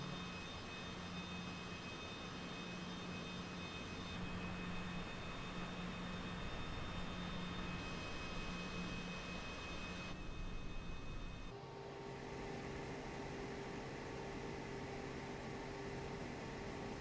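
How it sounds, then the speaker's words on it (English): A Cessna CJ4 jet being pushed back by a tug in Microsoft Flight Simulator, heard as a steady engine drone with a thin tonal whine that shifts in pitch and texture near the end, with no talking. "now our pushback has been connected to the plane, as you can see"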